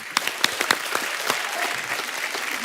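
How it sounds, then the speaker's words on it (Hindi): A television studio audience applauds, many hands clapping steadily with a few louder claps standing out near the start. "इनके लिए सच्चे दिल से तालियां।"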